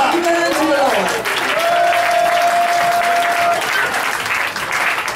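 A church congregation bursts into loud, sustained applause and cheering to acclaim the Lord, a dense crowd roar that holds steady throughout with a sung or called voice rising above it.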